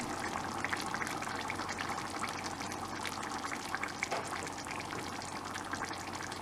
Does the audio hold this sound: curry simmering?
yes